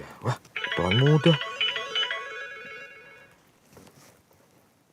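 A mobile phone rings with an incoming call indoors, its tonal ringtone loud and close for a couple of seconds before fading, with brief voice sounds around it.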